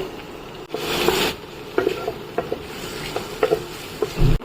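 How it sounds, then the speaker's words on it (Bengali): Paneer fries in a pan with a steady sizzle close up, while a utensil scrapes and stirs in repeated short strokes. "প্রথমে ভাজছি পনিরটা"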